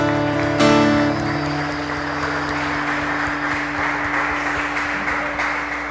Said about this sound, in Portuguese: forte aplauso ao Senhor